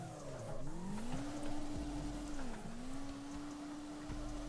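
Car drifting in CarX Drift Racing Online, driven with a steering wheel and no wheel assist: a steady, held engine drone with rising and falling pitch as the drift angle is maintained, alone and at moderate level.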